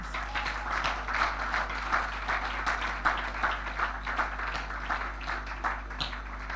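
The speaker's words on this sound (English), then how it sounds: "Another round of applause, please." A church congregation at an RCCG parish service applauds together in a sustained, even round of clapping that fills the room, with a steady low hum beneath and no speech over it.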